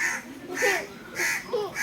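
Crows caw repeatedly in harsh, rhythmic bursts close by, several calls spaced across the moment, with faint background movement and no talking.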